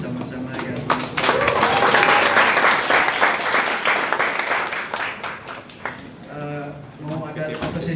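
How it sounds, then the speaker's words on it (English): An audience at the close of an Indonesian talk event breaks into applause, clapping swelling after a brief spoken lead-in and holding for several seconds before thinning out as voices return over it. "Kita tutup bersama acara kita hari ini dengan applause bersama-sama ya"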